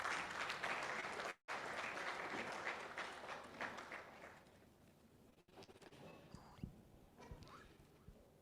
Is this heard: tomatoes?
no